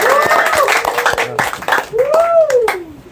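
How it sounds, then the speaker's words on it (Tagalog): A few scattered hand claps ring out close by while a voice talks over them. "Palakpak naman kayo."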